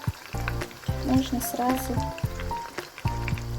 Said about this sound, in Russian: Вот до такого состояния надо жарить наше мясо.